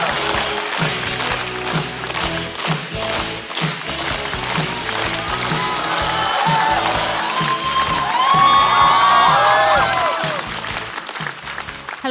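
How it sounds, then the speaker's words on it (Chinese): A studio audience applauds as a comedian walks onto a stand-up comedy show stage, sustained clapping with some cheering that swells midway, then settles, loud and close. "掌声有请。 张慧"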